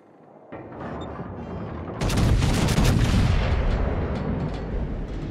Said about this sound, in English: That was a good salvo, though.